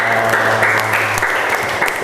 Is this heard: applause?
yes